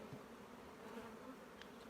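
Honey bees hum faintly and steadily on a hive frame during an acacia honey harvest at an apiary near Fontainebleau, a continuous low buzz with no voices.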